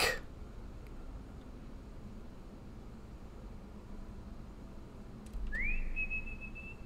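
In the Lost in Vivo video game, a rising whistle sounds at the very start, and another rises then holds a steady tone near the end over a low hissy ambient drone.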